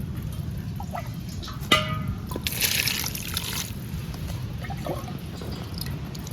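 Prawns and lobster being rinsed in fresh water, with steady close trickling and splashing, a sharp clatter near the start and occasional drips, no talk.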